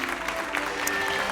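Students in the video game Hogwarts Legacy clap and cheer in a steady crowd wash of applause, with some faint voices mixed into the noise.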